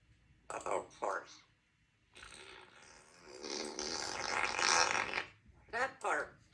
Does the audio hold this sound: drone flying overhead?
no